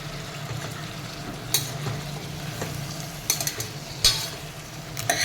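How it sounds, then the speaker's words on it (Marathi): Brinjal stir-fried in a pan for a quick vangi bhaat rice dish, giving a constant low sizzle with occasional sharp clinks of a spatula against the metal, close and without speech. "आता याच्यामध्ये आपण रेसिपीचं मेन इन्ग्रेडियंट वांग ते घालूया हे सुद्धा एखाद दोन मिनटं आपण परतून घेऊयात"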